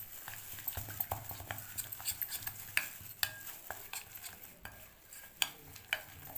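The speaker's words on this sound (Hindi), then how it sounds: "चलिए सारे मसाले इसमें शामिल कर दूँगी। तो मैं मिक्स करूँगी अच्छी तरह से।" Spoon scraping and stirring spices into chargha in a pan, a busy run of close, irregular knocks and scrapes over a faint sizzle, with no voices.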